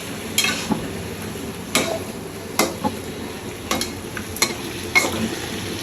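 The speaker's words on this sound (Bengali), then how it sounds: "মাছের তেলটা যত ভাজবেন তত মজা" Fish fat (macher tel) fries in a pan, a low steady sizzle punctuated by sharp spatula scrapes and taps roughly every second, close and clear with no talking.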